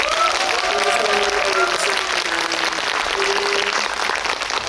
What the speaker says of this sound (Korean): 큰 박수로.